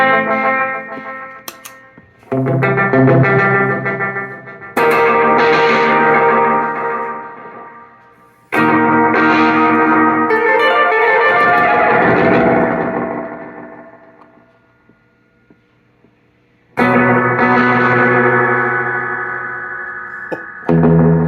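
Electric guitar through a Death by Audio Exploding Head delay pedal: loud distorted chords and strums with swirling, repeating echoes, broken by abrupt cutoffs and a long decaying tail before the playing resumes.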